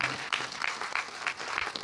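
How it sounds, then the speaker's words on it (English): A brief patch of scattered applause from attendees at a public workshop on a comprehensive plan, clapping for advisory committee members, light and uneven, with a few louder claps standing out. "give a big round of applause to our advisory committee members"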